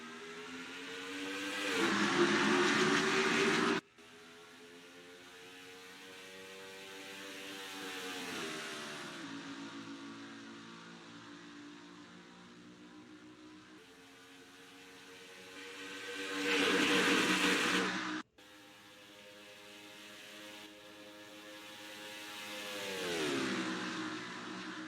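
Race car engines rev up and shift through the gears at the green flag of the Mobil 1 500 at Texas, the engine note sweeping and rising loudly in two surges with gear changes between them, alone with no voices.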